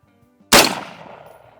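A single sharp rifle shot cracks loudly close by, fired at a 500-yard target through an inexpensive $80 barrel, followed by a decaying echo rolling off over about a second.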